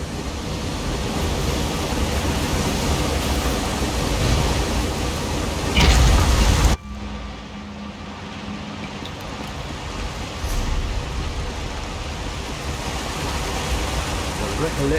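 Steady rushing waterfall in the fantasy game Elder Scrolls Online, a broad continuous wash of falling water that runs throughout, briefly swelling louder just before a sudden drop to a softer, more distant roar.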